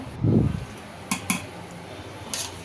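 A spoon stirs pulao, with ghee and fried onions added, in a pot: one soft scraping swirl followed by a few light metallic clinks of the spoon against the pot rim, close and fairly quiet.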